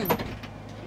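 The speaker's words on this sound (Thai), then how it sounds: "สมมติพี่ปิดประตู" Brief electric door on an American school bus sliding shut, a short mechanical whoosh with a soft bump, close and alone with no talk.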